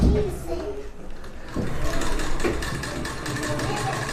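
A sewing machine stitches fabric with a continuous close mechanical whir and a faint rhythmic tapping that grows a bit louder partway through.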